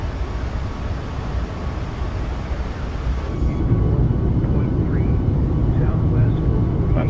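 A Boeing 737 Max 8 climbs out on departure in MSFS 2024, a steady loud jet engine roar with broadband rushing noise that swells midway, and a voice speaks briefly over it.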